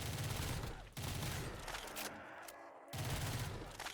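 M4 assault rifle firing in Call of Duty Black Ops 3 custom zombies, dense rapid automatic bursts with a brief lull in the middle, loud and close.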